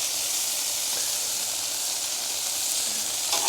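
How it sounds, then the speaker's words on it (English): White onions caramelizing on a griddle for a patty melt give off a steady, dense sizzle and hiss, close and fairly loud, continuing evenly throughout without voices. "You caramelize them good like this, it just brings all the sweetness out of a white onion."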